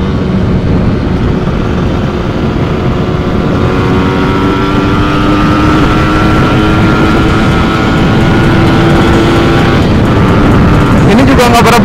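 A motorcycle engine fitted with a TM34 carburetor runs close and loud with a smooth, unbroken drone and no sputtering, its pitch creeping slowly upward.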